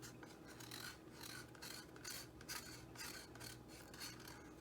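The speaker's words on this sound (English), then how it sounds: "Ooh, that scraping sound." Rhythmic rasping scrapes from an acrylic paint pour, a tool dragged repeatedly across a surface in regular strokes roughly twice a second, close but quiet, with no voices.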